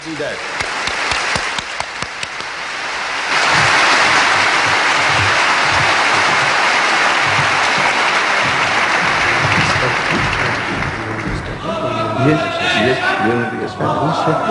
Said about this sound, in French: nous allons applaudir notre grand invité, Cheikh Ahmed Deedat